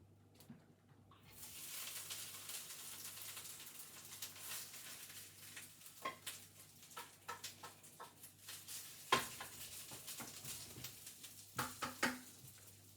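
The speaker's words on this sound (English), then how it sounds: "I'm just going to add this to a frying pan" Continuous sizzling of egg fried rice with steak in a hot frying pan, with frequent scraping and stirring clatters, utensil knocks punctuating the steady fry; no voices.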